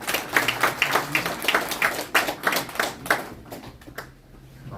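A crowd at a Korean church prayer gathering claps to welcome a pastor, with distinct, fairly rhythmic hand claps that are close and moderately loud, thinning out near the end.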